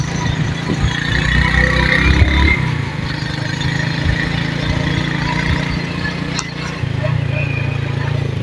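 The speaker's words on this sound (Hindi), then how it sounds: "यहाँ पर जो है रेत है तो बाइक जो बहुत मुश्किल से निकल रही है" A motorbike engine labours through deep sand among large dunes, a steady mid-low drone that strains and surges under continuous wind-like noise.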